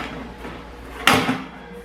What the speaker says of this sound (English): The door is just like a toaster oven door, pretty simple.